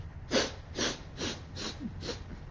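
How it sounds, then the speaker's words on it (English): Five short sniffs of air in an even rhythm, each a soft breathy burst, close and fairly quiet with no talking. "That's how you sniff the air suspiciously."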